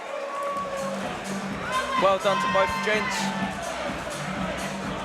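A crowd at a 78 kg amateur boxing bout cheers and murmurs after the third and final round, a steady roar of applause beneath a commentator talking.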